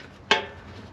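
A 3/8 ratchet with extensions knocks once against the exhaust under a Land Rover, a single sharp metallic clank that rings briefly before fading into quiet workshop background.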